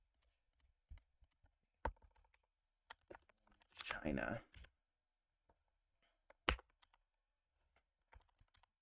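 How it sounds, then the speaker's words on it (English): Sparse clicks from computer keys tapped during an online office-hours session, isolated close strokes in a near-silent room, with one short spoken word in the middle. "Can I be heard over the sound of my keyboard?"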